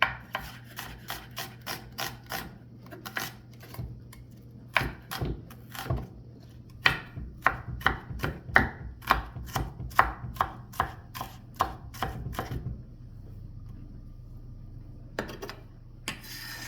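Steady knife chopping of an onion on a cutting board for a Bolognese sauce, crisp rhythmic taps repeating for about twelve seconds at close range, then stopping with a low hum underneath and a brief clatter at the end.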